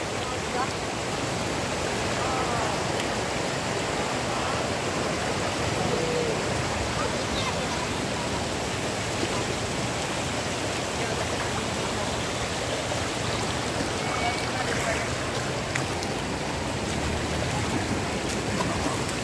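Steady rushing flow of a cold river stream in a creek, a close, continuous, even wash of water noise lasting the whole stretch without a break.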